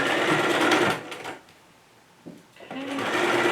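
Sewing machine backstitching at the opening of a fabric Valentine's Day bag, a steady close whir that stops for about a second and a half, then restarts with a brief clack.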